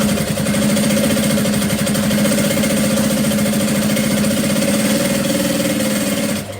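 A sewing machine stitching leather at a long stitch length, running in a steady fast mechanical whir with rapid even needle clatter that stops abruptly at the end.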